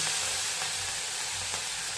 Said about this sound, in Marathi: गरम झाले छान हिंग नेहमीच आपली फोडणी त्याच्यात घालून घ्यायचे